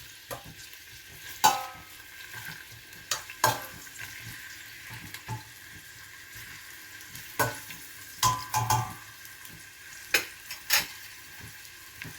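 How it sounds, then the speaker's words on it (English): Onions cooking on low heat in a pot for a Durban-style sugar beans curry, with a soft steady sizzle and several louder scraping stirs spaced through the stretch, alone with no talk. "Always cook your onions on low."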